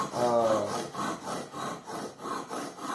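A broadhead arrow tip being sharpened with steady back-and-forth rubbing strokes, about eight even, rasping passes close by.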